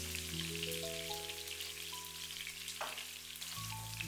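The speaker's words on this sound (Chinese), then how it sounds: "鍋留底油，下入準備好的薑蒜片，小火煸炒出薑蒜的香味" Ginger and garlic slices stir-frying over low heat in a little oil left in a wok, a steady close sizzle with faint scraping, alone with no talking.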